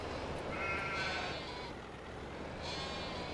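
Sheep bleat faintly in a calm farming video game, two soft wavering calls over a steady background of ambient game sound.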